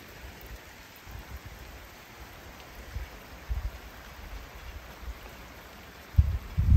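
Rain patters on a small roof at a house being built in the woods, a faint steady hiss with scattered soft drops and thumps that grow louder near the end, and no voices.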